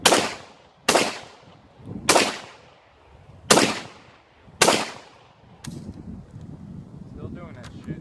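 An AK rifle fires the rest of its magazine outdoors: five loud, sharp shots spaced about a second apart, each with a short decaying echo, followed by quieter handling noise.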